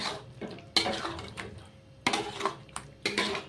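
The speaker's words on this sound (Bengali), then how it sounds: "চিকেনটাকে আরেকবার একটু নেড়ে চেড়ে দেবো" Chicken being stirred in a pan while cooking chicken maharani: a few distinct scraping, clinking strikes of a utensil against the pan, separated by quieter gaps, fairly close.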